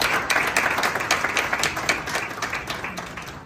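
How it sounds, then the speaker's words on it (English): A crowd claps and applauds at an airport welcome ceremony, dense rapid clapping that stays loud throughout and tapers slightly toward the end, with no talk over it. "Shall we do a big round of applause for him?"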